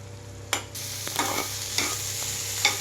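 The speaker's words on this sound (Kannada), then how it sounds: "ಅಲ್ಲಿವರೆಗೂ ಇದನ್ನು ಸ್ವಲ್ಪ ಫ್ರೈ ಮಾಡ್ಕೊಳ್ಳೋಣ." Mushrooms fry in a pan while being stirred, a soft steady sizzle broken by several scraping strokes of the spoon at irregular intervals, close and fairly quiet.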